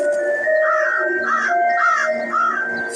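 A crow caws in a series of four or five harsh, repeated calls at a steady rhythm, fairly close and loud, over faint background birdsong with a thin steady tone.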